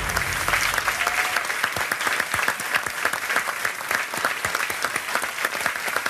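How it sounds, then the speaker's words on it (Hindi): Sustained audience applause fills a studio during a televised quiz show, a dense, steady wash of clapping lasting throughout without a pause. "तालियां बजती रहे इसके लिए।"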